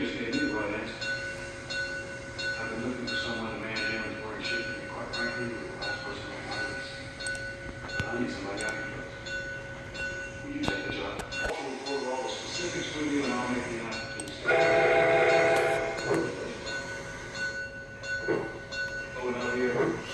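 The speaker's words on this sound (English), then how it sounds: "Then he heard a whistle he just knew he had to" A train whistle sounds over the rumble of a passing train, with people talking and a sustained tone toward the end.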